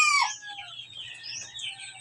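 Pet chicken clucking and calling while being bathed with shampoo, a sharp high squawk at the start followed by softer trailing clucks over a faint low background hum.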